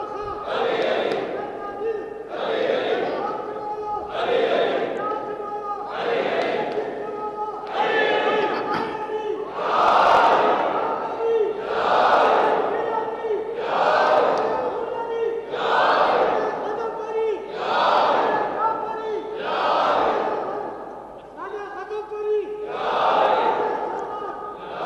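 A mosque crowd at a Shia majlis mourning gathering chants the religious slogan "Ali, Ali" in unison, loud repeated voiced shouts in a steady rhythm of about a dozen beats, filling a reverberant hall.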